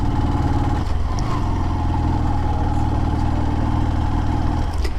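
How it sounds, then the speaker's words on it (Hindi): A low-cc motorbike engine works hard climbing an uphill road near Maithon Dam, Jharkhand, with the throttle held more than half open; a steady, loud, close engine drone and rumble runs throughout with no talk. "बाइक को यहाँ पर चढ़ने के लिए आप लोग देख पा रहे होंगे मैंने आधा से ज़्यादा एक्सेलेरेटर दिया हुआ है"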